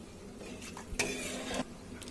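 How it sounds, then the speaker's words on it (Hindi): A spatula stirs and scrapes rice through hot oil in a pan, making soft sizzling with a few brief metallic scrapes and clinks, fairly quiet and close. "अब हम इन चावलों को मिक्स कर लेते हैं इसमें।"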